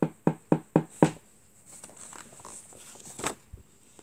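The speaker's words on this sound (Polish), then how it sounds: "Pewnego razu Karolcia słyszy pukanie do drzwi." A series of five sharp knocks on a wooden door, evenly spaced about a quarter-second apart, loud and close, followed by faint shuffling and room noise.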